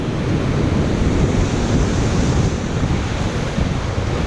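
Ocean waves rush and churn against a rocky shoreline in a steady, loud broadband roar, with constant surf wash and some wind buffeting, and no voices.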